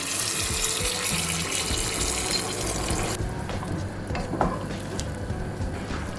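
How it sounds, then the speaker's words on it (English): Hot water poured into a pan of sautéing beef liver for Jamaican stewed liver: a loud, steady sizzle and rushing hiss that drops abruptly partway through to a softer bubbling simmer. "I'm going to add about 2 cups of hot water"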